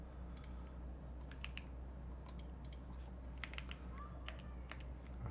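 Fast, irregular typing on a computer keyboard, with crisp individual key clicks coming in short clusters over a low steady background hum, fairly close and moderately quiet.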